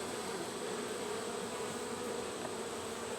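Honey bees buzz at a hive in a continuous, dense drone, a steady swarm hum with no voices heard.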